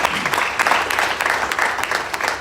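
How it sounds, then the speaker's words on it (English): Lively applause at a debut song event, a moderately loud crowd clapping with individual sharp claps standing out in an uneven, bursting rhythm throughout. "we can do a big round of applause for Nahil"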